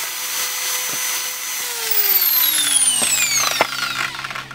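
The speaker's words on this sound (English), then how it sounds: "So I take the drill, and once I turn it on, I'm going to kind of swing it in a circular motion just to open the hole slightly." A power drill whines steadily as it widens a hole in a pipe for a chicken waterer nipple, its pitch sliding downward as the bit is swung in circles, with a couple of brief clunks near the end.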